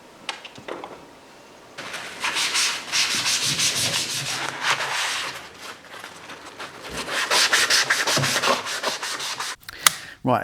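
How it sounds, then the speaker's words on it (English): Ridges are sanded off a plastic motorcycle throttle tube, giving close, rhythmic scratchy rubbing strokes in two long bursts with brief handling knocks between them. "You need to use a blade or a file or sandpaper or whatever and smooth off this plastic tube"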